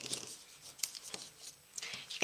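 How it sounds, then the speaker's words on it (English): Scissors snipping the corners of a folded paper craft, a few soft, quiet crisp cuts in short bursts, close by with no talking. "And now I am going to cut the corners"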